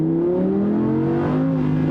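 Audi R8 V10 plus with its exhaust in race mode pulls hard, a steady rising engine tone climbing smoothly over two seconds, heard from inside the car.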